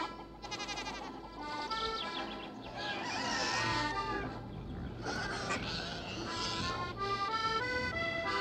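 Chickens and a crowing rooster in an allotment garden, heard as a lively mix of clucks and calls. Goat-like bleats are mixed in, and the sound stays steady and fairly close for the whole stretch.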